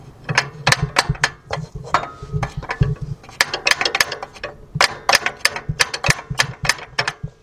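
A car's failing starter clicks rapidly in repeated bursts, loud and close, with the sharp mechanical ticks coming in quick uneven runs.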